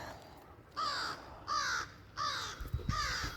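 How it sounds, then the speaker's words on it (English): Crows caw repeatedly overhead outdoors, four harsh calls evenly spaced about every second against a quiet background, fairly faint and distant. "The crows are all around us."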